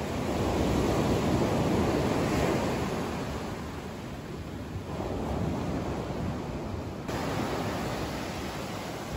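Big ocean waves crash and roll in against a rocky beach beneath cliffs, a loud continuous roar of surf with swells building and fading, no voices.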